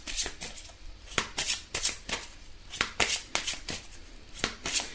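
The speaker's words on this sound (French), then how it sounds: "Alors on va tirer une carte des anges pour ce premier tas." Angel oracle cards are shuffled and drawn by hand, giving repeated crisp riffling bursts and sharp snaps that come in quick irregular clusters, close and clear with no talking.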